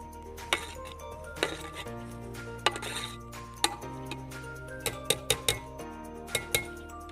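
The remaining rice for a homemade chicken dum biryani is spooned over the layer in the pot, giving repeated metal clinks and taps of a spoon against the vessel over a faint steady hum, close and unaccompanied by talk.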